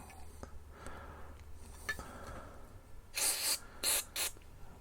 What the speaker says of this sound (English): let's just spray a little deoxit in there and see if that just loosens it up.